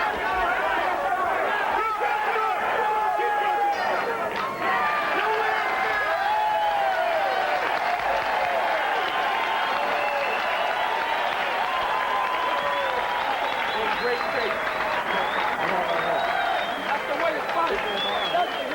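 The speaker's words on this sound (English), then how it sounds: "Wait till you hear the roar after this." A boxing crowd at a 1994 USA vs Cuba amateur dual meet roars and applauds in a dense, continuous wash of cheering and clapping that fills the hall without letup.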